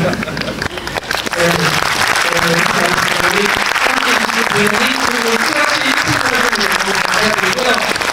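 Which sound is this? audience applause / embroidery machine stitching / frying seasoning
audience applause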